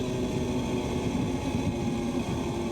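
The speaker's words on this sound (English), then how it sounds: "the engine's still running" A racing motorcycle engine runs with a steady, rough mid-pitched drone, continuous and fairly close, with no voices.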